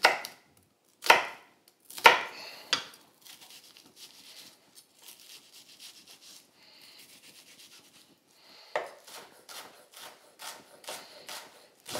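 A kitchen knife finely chops peeled shallots on a cutting board, a few heavy knocks at first, then a rapid run of light, crisp taps after a brief lull, close and dry with no talking.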